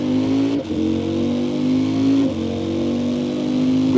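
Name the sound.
motorcycle exhaust while riding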